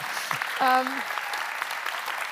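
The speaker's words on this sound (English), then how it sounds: "ask for a big round of applause for all of our speakers today" Brief clapping from an audience honoring speakers at a climate finance event, with a short voice sounding over it.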